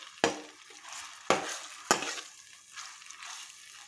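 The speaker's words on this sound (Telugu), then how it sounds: "దీన్ని మొత్తం ఆయిల్లో, ఇది పోపులో మొత్తం బాగా నీట్గా ఇలా మొత్తం కలిపేసుకోవాలి." Amaranth leaves are stirred through hot oil and tempering spices in a pan, three sharp spatula scrapes over a steady crackling sizzle, close and clear, with no speech.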